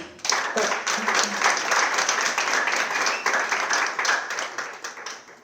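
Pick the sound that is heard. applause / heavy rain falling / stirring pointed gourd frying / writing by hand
applause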